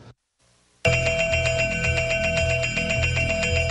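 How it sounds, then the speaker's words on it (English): NASDAQ opening bell ringing in a loud, continuous electric clang that starts abruptly after a brief silence and keeps pulsing steadily. "founder Mark Zuckerberg rang the opening bell of the NASDAQ market"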